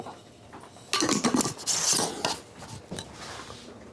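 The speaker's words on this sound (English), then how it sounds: "We put a lid on our fermentation bucket." A lid is pressed onto a plastic fermentation bucket holding a rum wash, giving a few close clattering, scraping knocks over roughly two seconds, then quieter handling.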